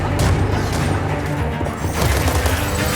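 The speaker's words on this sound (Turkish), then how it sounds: "Gerçekçi silah çatışmaları" Dense, continuous gunfire fills a World War 3 video game firefight, with overlapping shots and heavy booms close by and loud throughout, easing slightly for a moment before building again.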